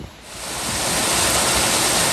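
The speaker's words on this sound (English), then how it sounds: "First real waterfall I've encountered so far." Small waterfall on a forest trail in Tennessee, a steady broadband rush of falling water that swells in quickly and stays loud and close.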